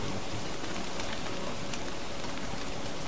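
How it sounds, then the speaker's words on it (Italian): Steady rain hissing in the game Don't Starve Together, a dense, even wash of falling drops with no voices, holding constant throughout. "sta scemando la pioggia"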